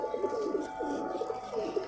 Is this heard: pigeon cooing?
yes